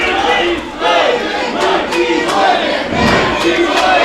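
A loud, divided crowd at an independent wrestling event chants and shouts in rhythmic, rising waves, with sharp claps and whistles cutting through the steady roar.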